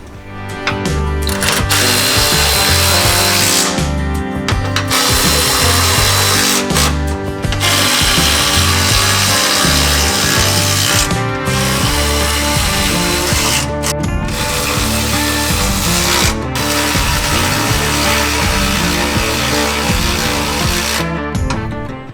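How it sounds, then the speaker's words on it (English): Power tool with a 13mm socket tightening 8mm bolts on aluminum rock sliders for a 6th-gen Toyota 4Runner, heard as loud, close bursts of mechanical whirring and ratcheting separated by short pauses. "tighten up the 6 8mm bolts using a 13mm socket"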